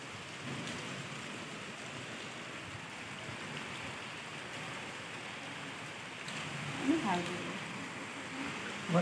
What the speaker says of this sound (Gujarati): વરસાદ એટલો બધો છે નહીં